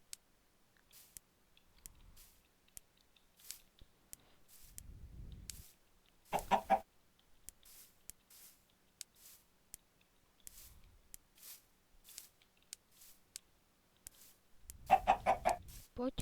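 Chickens in the Minecraft video game give a few short, close clucks in two brief bursts, set among scattered clicks and quiet stretches, with someone talking softly in between.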